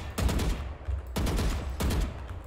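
Vandal rifle fire in the Valorant video game sounds as three sharp, evenly spaced shots about a second apart, each a loud crack with a short low-end tail, with no voices.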